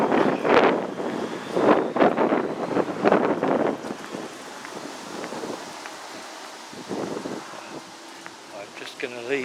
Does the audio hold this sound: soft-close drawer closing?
no